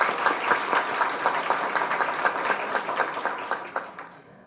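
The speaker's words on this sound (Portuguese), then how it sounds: "Eu vou pedir uma salva de palmas para vocês." An audience at a forum breaks into applause, a dense, moderately loud wash of many hands clapping with a clear rhythmic beat, fading out toward the end.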